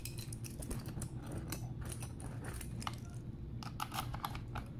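A key clicks and turns in a DIY glove compartment lock on a Suzuki Burgman Street 125 scooter, giving repeated small metallic ticks and scrapes over a steady low background hum.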